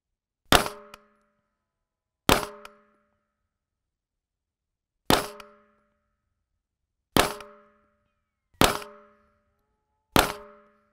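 Six sharp metallic clangs from Angstadt Arms UDP-9 rounds striking a steel target downrange, spaced irregularly over about ten seconds, each a bright ringing impact with a short decaying tail and silence between.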